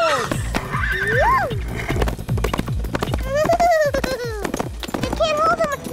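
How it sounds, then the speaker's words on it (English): A cartoon horse whinnies in rising, wavering calls over steady, quick clip-clopping hooves in a Disney Junior animated short, with bright voices speaking over it. "Wow! Sparky the Wonder Horse!"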